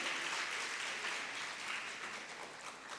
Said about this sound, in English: Please give all of them huge applause.